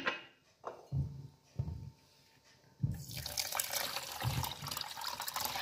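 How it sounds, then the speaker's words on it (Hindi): Water runs from a tap or is poured into brown sugar in a cooking pan while making a sweet and sour chutney, a steady splashing pour that starts after a few faint clinks and thuds and carries on to the end. "पानी भी शामिल कर देंगे"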